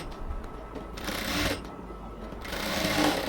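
A sewing machine stitches two overlapped ends of elastic together, giving two short bursts of rapid whirring stitching separated by a brief pause, close and moderately loud.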